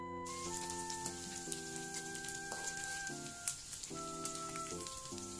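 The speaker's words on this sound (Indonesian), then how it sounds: "Sudah saya cuci bersih, kemudian goreng." Rice anchovies (teri Medan) frying in oil give a faint, steady sizzle and crackle, alone under a sustained melodic music tone.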